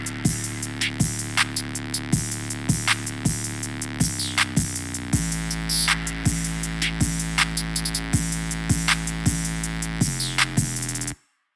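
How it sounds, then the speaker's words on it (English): A full beat's drum pattern with all drums layered together, including a kick used straight with no effects or volume changes; punchy, evenly spaced hits repeat in a tight loop for about eleven seconds, loud and up close, then cut off abruptly. "So with all the drums together, it sounds like this."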